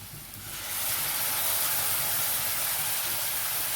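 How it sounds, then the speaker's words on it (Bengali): Spice paste hitting a hot pan for a mung dal with fish head, bursting into a loud, steady, close sizzling hiss that rises quickly and holds without a break. "এবার মশলার যে পেস্টটা তখন বানিয়েছি সেটা এর মধ্যে অ্যাড করে দেব।"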